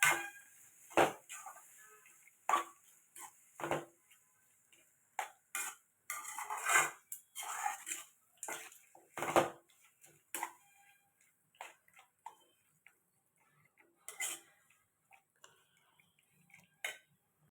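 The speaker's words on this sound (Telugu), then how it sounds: "ఇదండి అన్నం కలిపేసాను, ఇంకా కలుపుతున్నాను అనమాట." Rice being stirred together with lightly fried grated raw mango in a pot for mango pulihora, giving irregular close clinks and scrapes of a utensil against the pot, quiet with brief gaps between strokes.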